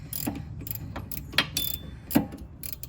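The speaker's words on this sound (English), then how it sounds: "And then I'm just gonna get this tightened down." A ratchet tightening a rear shock bolt on a Ford Escape, irregular metallic clicks and short bursts of ratcheting close by, with no talk.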